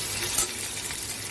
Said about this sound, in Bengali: রসুনগুলো আমার ভাজা হয়ে গেছে। এবার আমি পেঁয়াজ কুচোগুলো দিয়ে দেব।